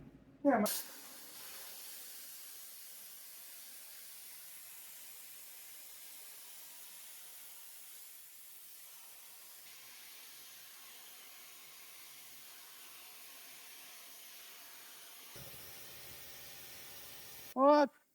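A CNC cutting machine starts a cut with a loud, steady hiss that runs for about fifteen seconds. A thin high tone joins midway, and brief voices are heard at the start and end.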